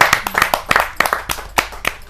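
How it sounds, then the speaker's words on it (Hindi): An audience at a Hindi poetry gathering claps in a sharp, uneven burst of close hand claps, loud and scattered. "जोरदार ताली के साथ हम उसका स्वागत"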